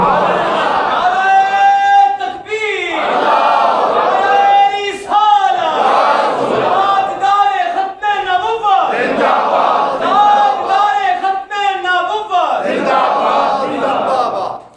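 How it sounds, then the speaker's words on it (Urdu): A large crowd at a religious gathering shouts a slogan in unison, answering a leader's call in loud, rhythmic bursts that repeat several times with brief pauses between, voices ringing together in a hall. "ہاتھ اٹھا کے نعرے کا جواب دیجئے نا"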